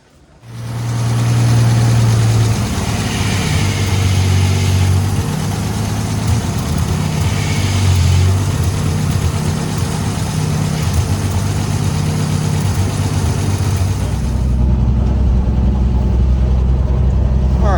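A 1955 Chevy 3100 pickup runs on its first drive in decades, its engine a loud, steady low drone that holds for most of the span before the pitch drops near the end.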